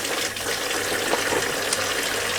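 Water runs from a tap while someone washes their hands, a steady close hiss and splash that continues throughout with small splashy fluctuations.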